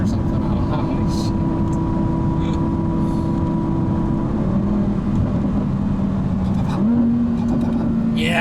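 A 2020 Can-Am Maverick X3 Max X RS Turbo RR with a seven-speed DCT drones loudly up close, its engine pitch stepping between revs as it rev-matches, while people talk over it.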